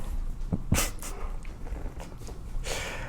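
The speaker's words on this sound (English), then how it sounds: "My dog just slipped." A dog scrabbles and slips indoors, a few short scuffing bursts of claws and thumps near the mic, followed by faint snuffling and movement.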